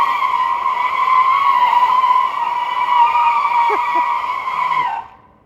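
A Mercedes car spins on the spot at the Mercedes-Benz plant, its tyres letting out a steady, sustained squeal for about five seconds before cutting off abruptly.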